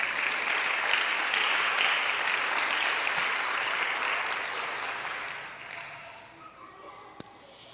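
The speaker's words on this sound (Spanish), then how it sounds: "dele una alabanza de palmas al que vive" Church congregation clapping in praise during a Spanish-language service, a dense, steady wash of applause that holds strong for several seconds, then thins and fades out near the end.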